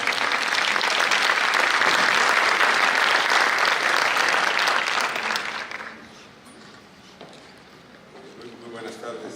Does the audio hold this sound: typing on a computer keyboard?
no